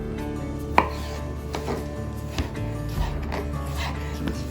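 Dill pickles chopped into cubes with a knife on a cutting board in a home kitchen, a series of irregular, distinct knocks of the blade striking the board over a steady low background hum.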